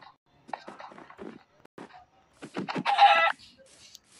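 A chicken clucks in the Minecraft video game, a short burst of loud clucking that follows sparse game sounds and faint background voice.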